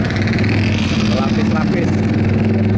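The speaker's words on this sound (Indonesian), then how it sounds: "Tuh kemacetan. Lihat kita zoom, macetan." Congested traffic on the Jambi–Tempino national road during stop-and-go roadworks, with idling car and motorcycle engines rumbling steadily close by, under a voice talking.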